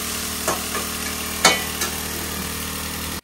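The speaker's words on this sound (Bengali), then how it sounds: "এটা হচ্ছে কুদরি আলু ভাজা হচ্ছে" Ivy gourd and potato frying in a pan, a continuous sizzle with a few sharp stirring scrapes against the pan, close and steady throughout.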